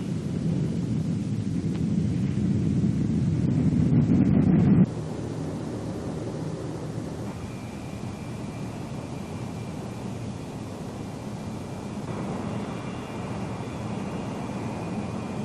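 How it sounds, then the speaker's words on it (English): Boeing B-47 jet bomber on its takeoff run: a loud, steady roar of jet engines fills the sound, swelling for several seconds before easing to a lower, constant rumble with a faint high whine. "When it's good and ready, the plane will fly off by itself."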